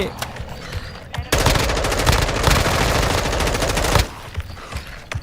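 Sustained automatic gunfire in the shooter game Warzone 2, a loud rapid rattle of close shots lasting a few seconds before stopping, with scattered quieter shots on either side.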